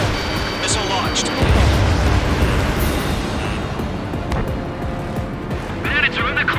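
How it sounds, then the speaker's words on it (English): A missile launch in Ace Combat 7, heard as a broad rumbling roar with a heavy low thump that swells and holds, while radio-style voices and cockpit alert tones sound over it. "Missile launched."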